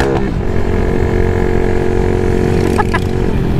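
A close, loud motorcycle engine drones steadily while the bike is being ridden, holding an even rev with a constant buzzing hum throughout.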